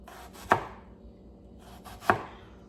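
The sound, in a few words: knife cutting an onion thinly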